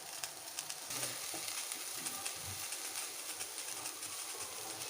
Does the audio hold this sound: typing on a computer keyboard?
no